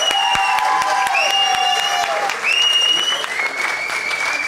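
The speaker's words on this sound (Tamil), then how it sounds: "ஒரு பலத்த கைத்தட்டல் கொடுத்துடலாம்" Loud, sustained applause from a large audience at a film audio launch event, with cheering voices and whistle-like tones ringing over the clapping throughout.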